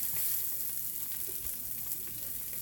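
Onion rings sautéing in a pan for gravy, a soft, even, close sizzle with faint crackles throughout and no speech.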